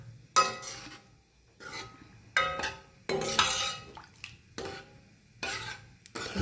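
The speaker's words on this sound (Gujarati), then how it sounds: "હવે આપણે દાળ એડ કરી દઈએ. સરસ મિક્સ કરી લઈએ." Dal and vegetables being stirred in a cooking pan, giving a few separate bursts of spoon scraping and clinking against the metal, each followed by quieter gaps, close and fairly soft with no talking.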